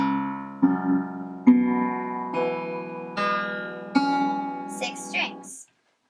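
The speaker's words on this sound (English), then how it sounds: "on the guitar, it sounds like this when you strum slowly." Six-string guitar strummed slowly, a series of about five ringing chords each started by a soft attack and left to sustain and overlap, ending with a few brief higher plucks before silence.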